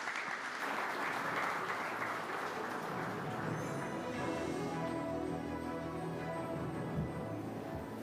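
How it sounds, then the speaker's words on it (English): Sustained audience applause fills a hall at a live business awards ceremony, a dense, steady wash of clapping that holds for the whole stretch without a break. "A big round of applause, ladies and gentlemen"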